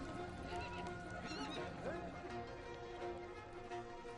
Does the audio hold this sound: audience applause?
no